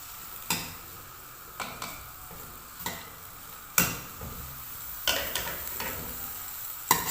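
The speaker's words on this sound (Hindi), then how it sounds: "और इसमें जो हमने आलू बॉयल किए थे उसको हम हल्का सा फ्राई कर लेंगे।" Half-boiled potatoes fry gently in a little oil over a medium flame, a soft constant sizzle broken by repeated sharp clinks and scrapes of a utensil against the pan, close and with no talk.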